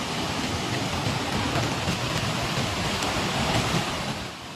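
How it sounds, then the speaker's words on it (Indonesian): Muddy floodwater rushing fast in a Padang flash flood, a dense, continuous roar of churning water close by, loud and unbroken throughout. "air masih mengalir deras dan dipenuhi lumpur"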